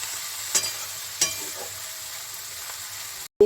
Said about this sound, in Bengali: একটু এটা ভাজা ভাজা হলেই নুন দিব